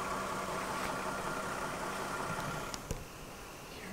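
A parked car's engine idles at night in a forest, a faint, steady low hum that continues alone with a couple of small clicks.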